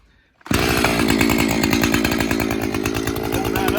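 A chainsaw fitted to a Granberg G-555 edging mill roars to life and runs steadily at high revs, a loud close buzzing drone with no talk over it.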